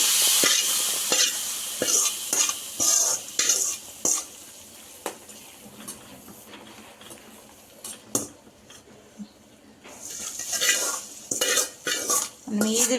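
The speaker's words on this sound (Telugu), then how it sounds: "తాలింపు చేసేసి" Tempering spices for black pepper rasam sizzle in a pan while a spoon stirs and scrapes, producing bursts of sharp metallic clatter over a soft, steady frying hiss, with no talking.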